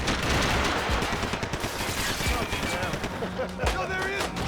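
Gunfire in the video game Max Payne 3 rattles in rapid bursts of sharp shots, loud and close, mixed with shouting voices.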